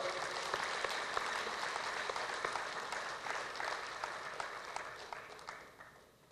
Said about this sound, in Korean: 우리 후보님들에게 다시 한번 뛰자고 격려의 박수를 보내주시기 바랍니다